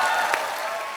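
Studio audience applause on a Hindi TV comedy show, The Kapil Sharma Show, welcoming actress Shraddha Kapoor to the stage; dense, steady clapping fills the whole second with a brief louder swell near the start.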